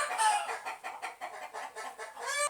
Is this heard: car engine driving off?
no